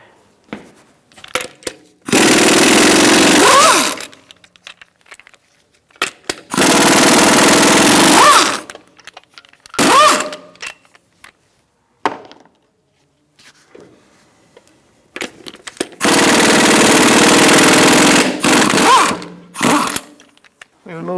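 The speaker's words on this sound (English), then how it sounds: "Using a 21mm socket, we're going to remove our lug nuts." A power tool with a 21mm socket spins off lug nuts on a 2007-2017 Ford Expedition, sounding as three loud sustained whirring bursts of a few seconds each, separated by short gaps with brief clicks and rattles.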